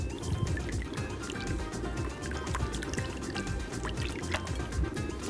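Raw shrimp are dropped into a wet marinade dressing for Italian grilled shrimp, giving close, continuous squelching, dripping and splashing of liquid with small clicks from the bowl.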